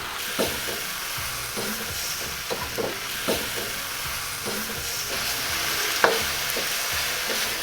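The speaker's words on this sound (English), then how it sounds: "Throw in my mushrooms." Mushrooms fry in a pan with rice wine vinegar for Shanghai lo mein, giving an even sizzle broken by repeated spatula stirs and one sharp clink near the end.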